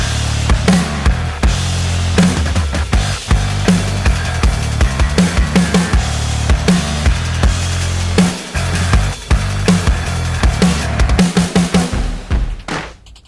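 A drums, percussion and bass stem from a song, isolated in a Logic Pro session, plays a big fill: loud punchy hits and rolling percussion over a sustained bass line, with a sudden burst of rapid hits near the end.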